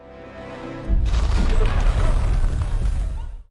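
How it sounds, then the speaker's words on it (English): The Kremlin explodes in Mission: Impossible - Ghost Protocol as a sudden massive blast: a deep, roaring boom that hits after a quiet moment and rumbles on loudly for a few seconds before cutting off. "The Kremlin blows up."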